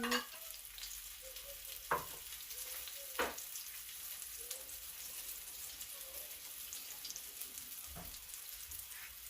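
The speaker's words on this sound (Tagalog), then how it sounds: "fry it until it's light brown, yeah? Or until the fish is well done." A floured salmon fillet fries in a pan with a soft, continuous sizzle, broken by a few brief clacks and bumps of utensils; the sound stays fairly quiet and close, with no talk.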